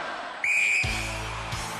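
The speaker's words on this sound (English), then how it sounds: "Gary, you will go on my first whistle" A referee's whistle gives one long, piercing shrill blast to start a UK Gladiators event in 1993, ringing over a noisy arena crowd as a horn-like tone joins beneath.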